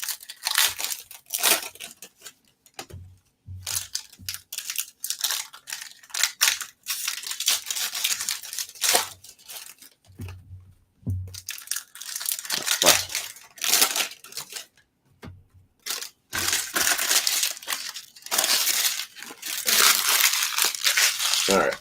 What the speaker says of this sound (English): Just unwrap them all here. Maybe it'll change our luck if I unwrap them all.